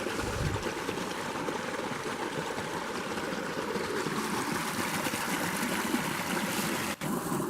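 Clear stream water rushing over rocks on a wooded park trail, a steady broadband gurgle and splash that holds close and loud throughout, with no pauses.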